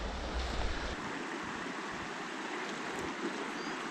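Fast, broken, bubbly water of the Howqua River rushes in a steady, close, broadband wash with no letup, and no voices are heard.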